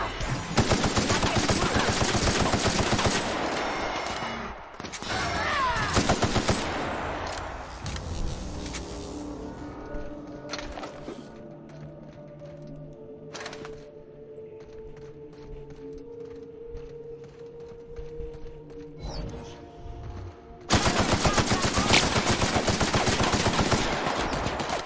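Gunfire in the sci-fi video game Peril on Gorgon: loud bursts of rapid automatic shots at the start and around five seconds, a quieter stretch with scattered single shots and tones, then another loud sustained burst near the end.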